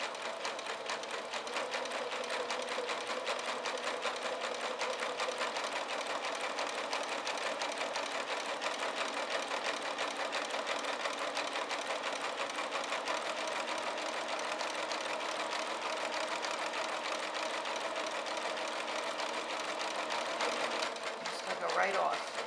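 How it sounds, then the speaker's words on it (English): A sewing machine stitches ribbon onto a pettiskirt and trims it as it sews, with a steady, continuous whirring hum at close range that runs without pause until it stops near the end. "and it will cut off my ribbon as it sews."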